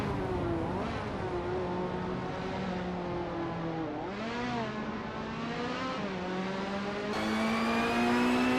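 Vintage race cars in a race led by a 1965 Cooper Type 61 Monaco: a steady, droning engine note that rises and falls as the cars rev and ease off, continuous and moderately loud throughout.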